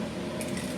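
Boiling water and cooked rotelle pasta poured into a colander in a kitchen, a steady rushing splash with a soft squishy texture, close and fairly loud.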